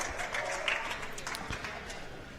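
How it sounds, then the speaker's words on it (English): Spectators at a junior lawn bowls state championship fours match give a brief round of applause, faint and distant, a soft spread of clapping under the outdoor ambience. "Generous round of applause."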